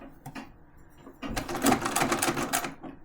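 A sewing machine stitches through a quilt, a short burst of quick rattling stitches that starts softly and then runs faster and louder for about two seconds.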